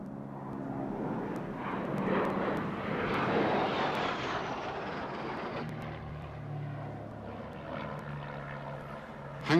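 An aircraft flies past at the RAF Leeming Air Fair in 1993, its engine roar swelling loud in the first seconds then easing into a fainter drone, with no talk.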